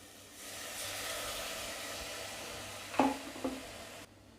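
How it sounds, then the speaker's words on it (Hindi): A steady, soft sizzle of spice paste frying in a pan with a little water for a Sindhi lotus root dish, with a couple of brief clinks of a utensil near the end before it stops. "थोड़ा सा पानी ऐड करेंगे ताकि अच्छे से भुनाई हो"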